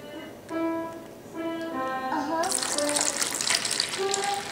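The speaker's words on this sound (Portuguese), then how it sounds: "agora eu vou botar água gelada, água fria" Cold water pours from a tap into a bowl while gelatin is being made at home, a steady gushing splash that builds louder over several seconds, with a child and an adult talking over it.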